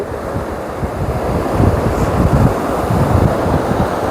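Sea waves wash in near a floating bridge in a continuous broad rush, with wind buffeting the microphone and surges rising and falling.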